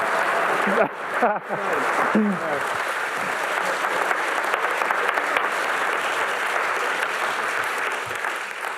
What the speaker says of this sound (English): please a massive round of applause for Dr. Ben Garrett.